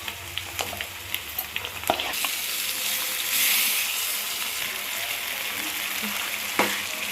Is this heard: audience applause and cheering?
no